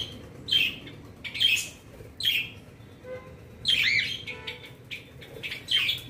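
Pet birds kept in a neighbouring flat chirp and squawk in short, shrill bursts, about six calls spaced irregularly over a low background hum, fairly close and clear.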